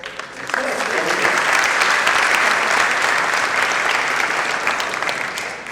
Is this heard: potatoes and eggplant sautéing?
no